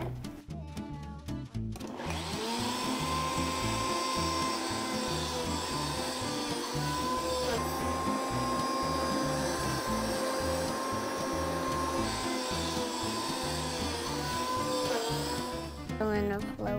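A countertop blender whirs steadily as it chops a banana peel broken into halves, a loud continuous motor drone after brief clatter at the start, with voices talking faintly around it.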